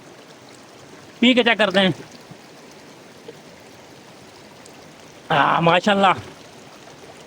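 Cold natural spring water flows steadily at a hillside spring in Jabri, Haripur Hazara, a continuous stream broken twice by someone speaking over it.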